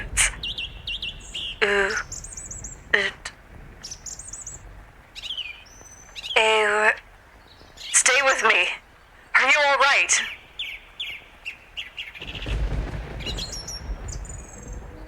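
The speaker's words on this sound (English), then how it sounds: "Man, those are some loud birds." Loud birds chirp in a video game, repeated bright tweets and trilling calls in short bursts, close and prominent, with a person talking between and over them.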